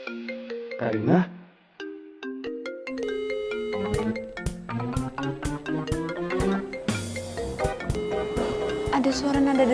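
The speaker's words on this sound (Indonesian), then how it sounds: "Ada suara nada deringnya Ciko di sini." A mobile phone ringtone plays a bright, chiming melody of repeated plucked notes, rising after a short pause and continuing loudly and steadily to the end.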